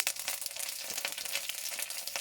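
Curry leaves frying in hot coconut oil for a pumpkin stir fry, giving a steady, dense crackling sizzle with quick popping bursts throughout, close and fairly loud.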